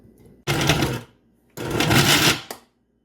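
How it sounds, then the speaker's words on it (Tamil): A kitchen mixer grinder runs in two short pulse bursts grinding chopped dates, each a loud whirring, rattling spin of about half a second to a second, separated by a brief pause. "வெட்டி வச்சிருக்கிற பேரிச்சம்பழத்தை போட்டு பல்ஸ் மோட்டில் அரைச்சி எடுப்போம்"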